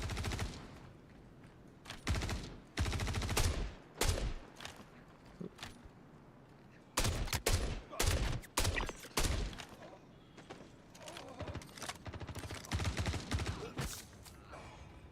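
Bursts of S71 rifle fire in the Star Citizen video game, rapid sharp shots clustered into several loud volleys with short quiet gaps between them.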